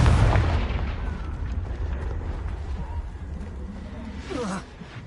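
In Hogwarts Legacy, a Confringo spell sets off a loud, rumbling blast that keeps booming and roiling for several seconds, with a brief voice near the start.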